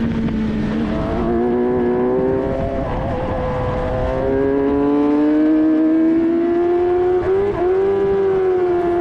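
A race car engine in an F1000 single-seater, heard onboard during a race at Silverstone, drones loudly and steadily as revs climb and dip, with a possible clutch slip.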